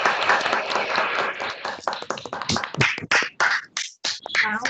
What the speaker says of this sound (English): can we have a clap for everyone, all the participants and the winner virtually?